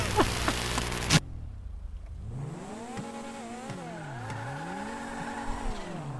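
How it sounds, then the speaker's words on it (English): Tire squeal from a car in GTA 5 Online, a loud engine burst cutting off, then a sustained wavering screech of rubber that rises and falls over several seconds, heard alone. "I love the tire roast on this."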